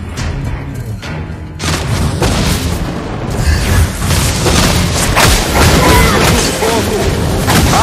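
Explosive booms and thuds from the Mobile Legends: Bang Bang mobile game, loud and dense in a continuous barrage of game effects, with an in-game voice line over the action.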